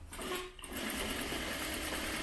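A sewing machine runs a steady straight stitch along a quarter-inch face mask seam, a close, continuous rapid whirring that pauses briefly near the start and then carries on without talk.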